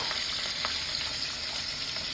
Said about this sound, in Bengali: এখন মাছ ভাজতে শুরু করে দিয়েছে